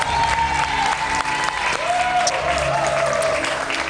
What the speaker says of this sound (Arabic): دول حمو تصفيق عليه، زياده تصفيق عليه هكي.